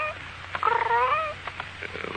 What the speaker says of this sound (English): What are you purring so?